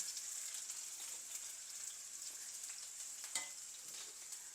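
Onion and green chillies sauté in a hot pan while prawn curry-leaf masala is prepared, a faint, steady sizzle with occasional soft stirring scrapes, alone without talk.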